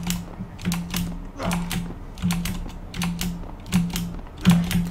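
Loud computer keyboard mashed rapidly during play of Deus Ex: Human Revolution, with dense bursts of clattering keystrokes in an irregular rhythm, close and prominent with no talking.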